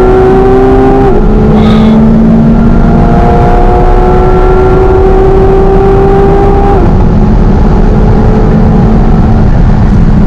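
A McLaren 720S Spider launches hard under launch control, its twin-turbo engine roaring loud and close in-cabin with rising revs and distinct gear-change drops in pitch across a sustained pull.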